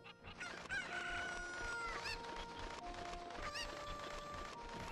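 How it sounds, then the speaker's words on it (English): Chickens clucking and a rooster crowing in Ocarina of Time, several fowl calls over layered game music and effects at moderate loudness. "Chicken. Chicken. Chicken. Come here, chicken."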